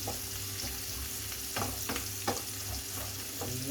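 Onions and chicken liver stirred in a frying pan, a steady sizzle under several distinct scraping strokes of a utensil against the pan, close and moderately loud.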